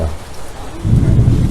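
A thunderstorm with rain and wind roars steadily, and a deep rumble of thunder swells in partway through, loud and enveloping.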